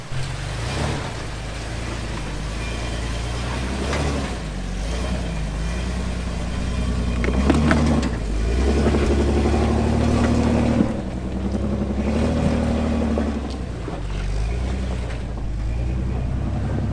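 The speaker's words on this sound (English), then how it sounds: "Okay, so this is the obstacle Matt's referring to. It's pretty gnarly. Let's watch the Banana go up it" A Jeep crawls up a gnarly rocky off-road trail obstacle, its engine droning steadily and swelling into a harder, louder revving push midway before easing back.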